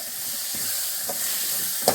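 Grated coconut roasts in a pan for raw mango rice with a steady, soft sizzling hiss, broken by a few light spatula clicks and one sharper scrape near the end.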